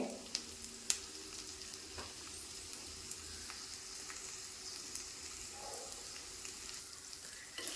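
Chopped onions sautéing in oil with a little salt, a faint steady hiss of frying with occasional soft stirring ticks, quiet and without voices.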